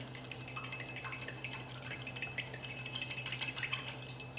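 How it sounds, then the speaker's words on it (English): Mug cake ingredients are mixed in a bowl with a utensil, producing a steady, rapid run of close scraping and clinking strokes in a regular rhythm, with no talking. "And then mix our wet ingredients together."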